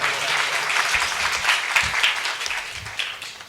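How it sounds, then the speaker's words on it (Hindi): Sustained applause from an audience at a Maalwa folk festival Mach performance, dense steady clapping throughout with slight swells, fairly near and loud, no voices over it. "एक बार इनके लिए जोरदार तालियां जरा"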